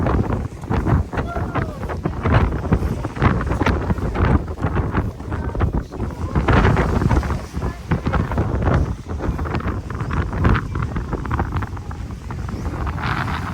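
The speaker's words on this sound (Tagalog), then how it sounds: "Oh, malakas na yung hangin." Strong wind buffets the microphone in continuous heavy gusts, with a boat's engine rumbling underneath.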